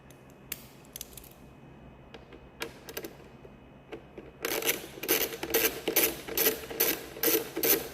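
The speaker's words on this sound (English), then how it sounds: "we're going to take our number 3 Allen. Take these 4 screws out on top here." An Allen key ratchets screws out of a Ferrari instrument cluster: sparse clicks at first, then a fast close run of ratcheting ticks and mechanical rubbing.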